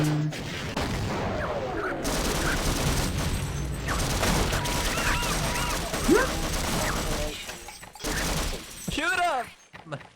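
Gunfire in Half-Life comes as dense, chaotic bursts with crashes and shattering amid loud combat noise, while a person talks over it.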